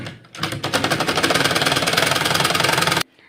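Sewing machine stitching along the edge of shirt fabric, starting abruptly and running in a fast, even, rapid rhythm for about two and a half seconds before stopping sharply, close and loud.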